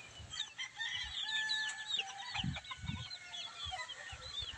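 Pet chicks chirping in rapid overlapping high peeps, close and fairly loud, with a few soft low thumps beneath.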